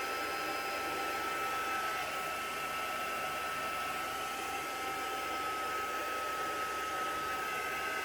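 A heat tool blows steadily on coffee-painted paper in a handmade journal, a constant loud airy whoosh with a faint whine running unbroken and alone.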